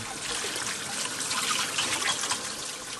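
Water runs steadily from a tap while dishes are washed, a close, constant splashing trickle with no voices.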